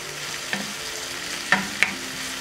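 Spinach sizzles in a pan with butter in a continuous close hiss, broken by a few sharp stirring clicks and pops.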